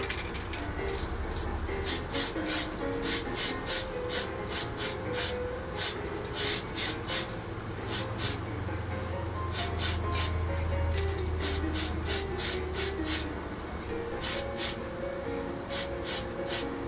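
An airbrush or spray can hisses in repeated short bursts, a rhythmic series of sprays applying paint to a 1/32 Tamiya F-51D Mustang model, with a low background rumble underneath.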